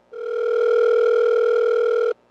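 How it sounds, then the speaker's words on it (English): A house phone dial tone hums steadily at close range, one unbroken two-second tone that cuts off abruptly, with no voices over it. "I'll give 9B a ring first on the house phone"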